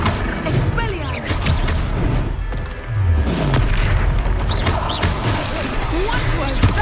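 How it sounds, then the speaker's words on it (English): A disarming spell fired in the Hogwarts Legacy video game, amid a string of heavy booms and thuds from magical combat that carry on steadily through the whole stretch. "Expelliarmus!"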